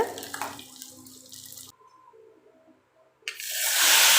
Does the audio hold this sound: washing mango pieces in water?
yes